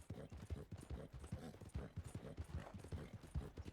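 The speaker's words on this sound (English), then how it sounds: "Like, I don't have to steer the horse." Horse hooves clip-clop steadily in the video game Red Dead Redemption 2, an even rapid rhythm of close hoof strikes over a busy background of game ambience.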